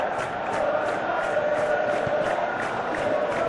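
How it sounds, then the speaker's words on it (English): Stadium crowd in the PES 2021 football game, a UEFA Champions League match between Olympique Marseille and Panathinaikos, roaring and cheering in a steady, dense wash with rhythmic chanting pulses, loud and continuous throughout. "Well, the crowd clearly like what they just saw."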